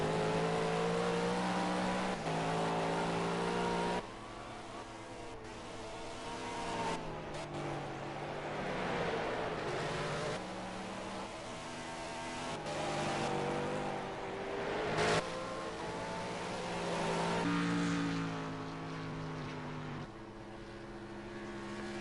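Race cars in a PS4 racing game roar continuously, engines climbing and dropping in pitch through repeated gear shifts, with several cars layered close together and no voices.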